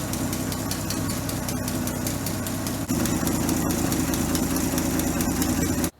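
A Chevy C10 straight-six engine from a barn find, freshly rebuilt with a budget ring job, idles steadily and fairly loudly close by, with an even, continuous rumble and a slight step up in tone halfway through.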